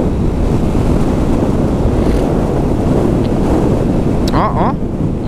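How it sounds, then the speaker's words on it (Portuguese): Strong, steady wind roars and buffets the microphone while riding a motorcycle, pushing the bike sideways; a constant heavy rush with no pauses, loud and close. "Ó, o vento jogando a moto."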